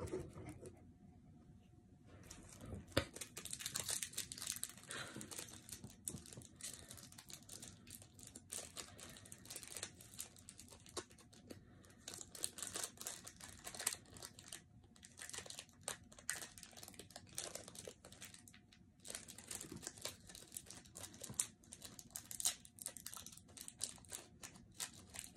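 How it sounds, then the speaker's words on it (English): Crinkling plastic wrapper of a Pokemon Sword & Shield Evolving Skies booster pack being torn open from the bottom, with close, continuous rustling and crackling handled at low volume. "This one was a pretty good rip too. I just pulled it from the bottom and it just popped open."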